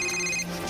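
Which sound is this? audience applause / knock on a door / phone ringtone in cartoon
phone ringtone in cartoon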